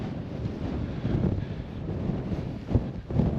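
Blustery wind buffets the microphone in rumbling surges against a 3FUL Gear Taiji 1 tent while wild camping, with stronger gusts flapping near the end.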